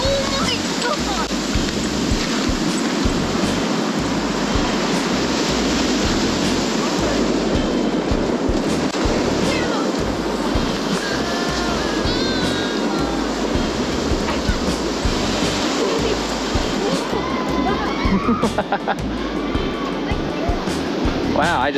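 Huge ocean waves, estimated six to ten feet tall, crash onto the beach at Santa Cruz, California during a winter bomb cyclone, a loud continuous roaring surf with heavy low rumble and wind, with voices faintly under it.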